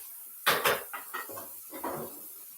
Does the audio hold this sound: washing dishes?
yes